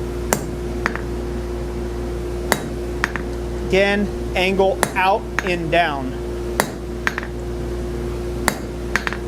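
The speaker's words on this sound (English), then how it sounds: "Then we'll go directly catty corner to that and hammer on this tool again." A hammer strikes a forging tool as a Gothic door knocker is shaped. The blows come as sharp, ringing metallic hits, spaced irregularly over a steady background hum, and someone talks in between.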